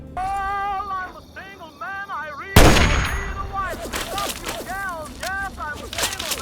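A single loud rifle shot from a .308 sniper rifle in Fallout 3 bursts in mid-clip after harmonic tonal sounds, with a long echoing tail and further warbling game sounds after it.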